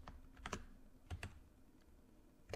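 Close, quiet keyboard typing in short bursts: a few quick keystrokes, a pair of clicks after a pause, then another tap at the end, over a faint steady hum.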